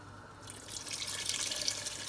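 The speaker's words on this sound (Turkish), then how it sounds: "Bu şekilde üzerine geçecek kadar sıcak su ekliyoruz." Hot water is poured over dried okra in a cooking pot, a soft splashing gush that starts quietly and swells into a steady pour, with no talking.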